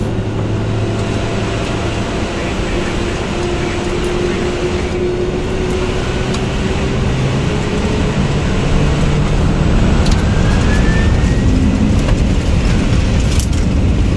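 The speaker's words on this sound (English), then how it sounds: "Takeoff thrust set." Lufthansa Cargo MD-11F jet engines at takeoff thrust, heard from the cockpit on departure from Johannesburg as a loud, steady roar with rising tones while the aircraft accelerates.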